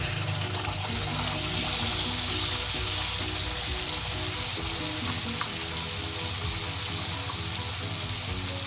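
A fine ground paste of onion, ginger, garlic and red chili fries in a hot pan for biryani, giving a steady, close sizzle and crackle that continues alone throughout.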